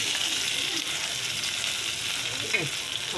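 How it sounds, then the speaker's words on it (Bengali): Chopped onions in hot oil in a kadai give a dense, even sizzle that hisses continuously and loudly up close, with a small scrape near the end. "পেঁয়াজ যেটা কুচিয়েছি এইটা দিয়ে দেবো কড়াইতে"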